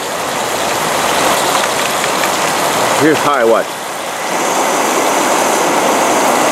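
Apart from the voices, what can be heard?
two camping stoves roaring like jet motors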